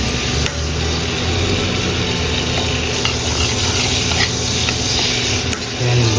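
Margarine sizzles in a cooking pan while hot and spicy butter crab is being prepared, a loud, continuous frying hiss that stays even throughout with no talk over it.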